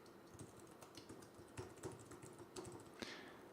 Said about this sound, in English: I'm going to go ahead and type my PayPal email address in.